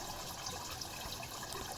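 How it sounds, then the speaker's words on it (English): Water runs steadily into a French drain clean out in a yard, a continuous close trickling and gurgling wash with no breaks. "you can see that water's still flowing in here"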